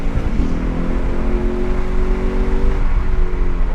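Lexus IS F V8 with a muffler-delete exhaust rumbles deep and loud from inside the car, its revs climbing in a steady rising pull with harmonic tones sweeping upward, no voices over it.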